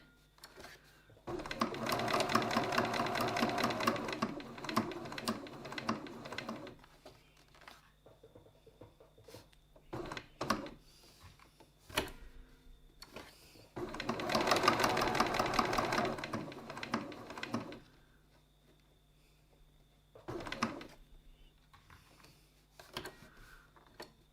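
A sewing machine stitches a leather wallet flap in two rapid, steady bursts of several seconds each, separated by pauses with small clicks and handling noises.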